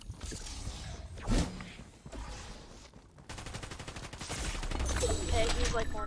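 Bursts of gunfire ring out in a Fortnite match, rapid automatic volleys and single shots in close succession, fairly loud, with a player speaking briefly between them.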